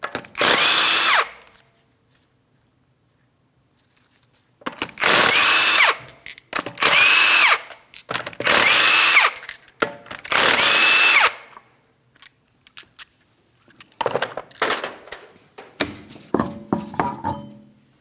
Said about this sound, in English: you're going to remove all 5 of your 19mm lug nuts and then the wheel